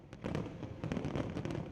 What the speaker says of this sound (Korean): 최고 100m 넘게 솟아오른 물줄기 위로 하늘에서는 화려한 불꽃놀이가 펼쳐집니다